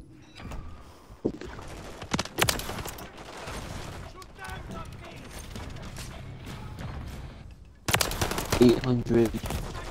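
Gunfire in Call of Duty: Modern Warfare 3, with sharp weapon shots and mechanical reload clicks and rattles, then a dense burst of firing near the end, all mixed with people talking.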